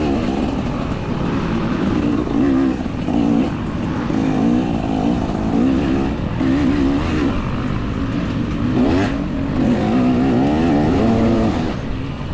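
A race car engine revs hard and continuously during a circuit race, pitch rising and falling with gear changes, loud and close throughout with no voices.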